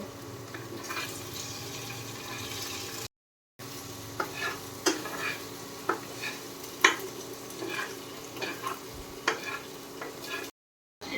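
Egg stirred and frying with vegetables in a pan for a chicken masala Maggi noodle dish, a steady sizzle broken by repeated scraping stirs, close and alone, with two brief dropouts.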